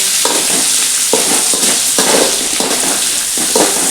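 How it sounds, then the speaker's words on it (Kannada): Onion frying in a pan for a raw banana stir-fry, with a steady loud sizzle and repeated scraping strokes of a spoon stirring about every half second. "ಈರುಳ್ಳಿ ಸ್ವಲ್ಪ ಫ್ರೈ ಆಗಿ"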